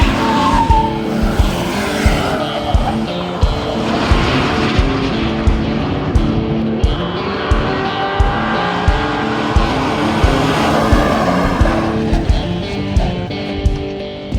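A Mercury Grand Marquis race car laps a racetrack, its engine droning loud and close with shifting pitch, rising and falling whine and tire noise throughout, no talk.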